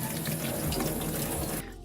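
Tap water runs steadily and fairly loudly as syringe parts, including the rubber tip, are rinsed under it, then cuts off abruptly near the end, leaving quiet.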